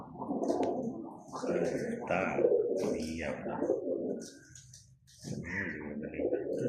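Pigeons coo softly in low, throaty bursts close by, with people talking over and between the calls.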